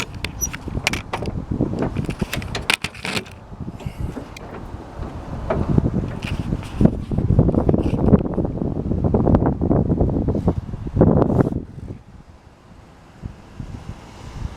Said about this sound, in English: Again, sorry if it's windy outside.